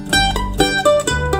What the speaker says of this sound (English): Arpeggio pattern in G.